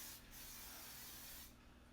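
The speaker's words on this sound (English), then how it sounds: "I'm just going to go ahead and lightly spray it" Cooking spray hisses from an aerosol can onto a baking pan in a kitchen: a faint, steady burst of airy spray lasting over a second, with no talking.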